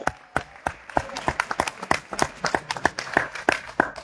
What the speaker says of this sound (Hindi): तो एक बार डॉक्टर लिम के लिए जोरदार ताली हो जाए